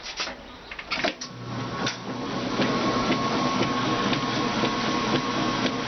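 A Kenmore Series 80 washing machine runs on normal agitation. A few clunks come first, then a steady, close mechanical churning hum settles in and continues without a break.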